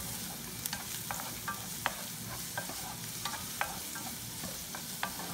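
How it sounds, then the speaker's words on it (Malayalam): Chopped onion sautéing in a pan for a Malabar meat cake, a steady soft sizzle of oil with scattered sharp clicks and scrapes of stirring, close and moderately quiet, no voices. "ഉള്ളി ഇട്ടതിന് ശേഷം നന്നായിട്ടൊന്ന് ഉള്ളി വഴറ്റിയെടുക്കാം."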